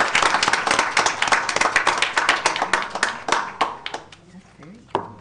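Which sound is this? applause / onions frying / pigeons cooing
applause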